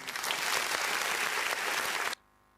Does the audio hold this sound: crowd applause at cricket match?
yes